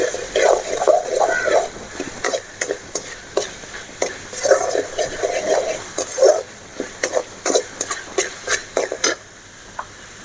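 Chilli powder is sautéed in a pan for spicy egg idli, with soft sizzling under a string of sharp ladle scrapes and taps against the pan, close and irregular, with no talk.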